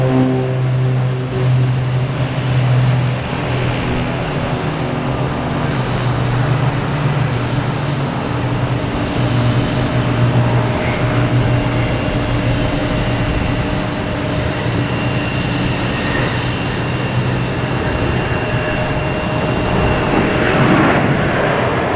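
A FedEx Boeing 767 arriving at Boston Logan Airport produces a loud, continuous jet roar with steady engine tones, sustained and broadband throughout with no voices.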